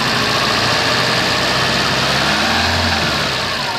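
Chevette engine idling with its ignition timing retarded, a loud, steady close-up drone with a rough low-frequency shake that runs unbroken throughout.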